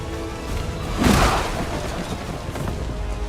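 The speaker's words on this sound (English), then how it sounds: "Shockwaves of that explosion reverberated throughout most of the city." An in-game explosion in XCOM 2 erupts as a single deep boom that swells and rumbles briefly before settling back into a dense background of game sound.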